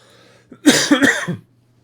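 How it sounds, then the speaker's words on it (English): A person coughs a few times in a short, close burst, then falls silent. "Excuse me for the cough."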